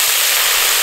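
Cooking wine splashes into a hot wok of spicy chicken feet and flashes into a loud, steady hiss of steam and sizzle, brief and close.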